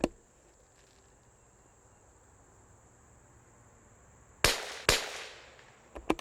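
Two sharp .22LR shots from a Springfield 2020 rifle ring out about half a second apart late in the clip, after a long stretch of steady outdoor insect chirping, with faint clicks following.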